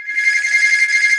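A telephone rings with a steady electronic trill, loud and close, sustained for the whole moment with no talk over it.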